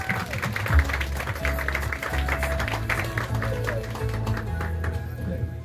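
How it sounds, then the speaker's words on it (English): An audience applauds at a World Bicycle Day event in a mall, with steady, moderately loud clapping that continues throughout and some crowd murmur underneath. "Let's give him a round of applause."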